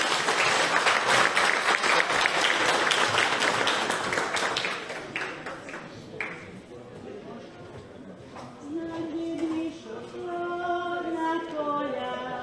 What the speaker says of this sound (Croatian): Pozdravimo ih jednim velikim pljeskom.